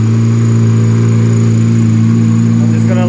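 An Acura RSX with a K20/K24 engine and a dump tube exhaust idles while warming up, a loud, steady, low mechanical drone with a constant hum and no revving.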